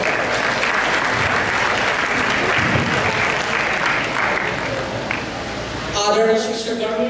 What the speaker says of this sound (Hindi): तालियों से करता हूँ।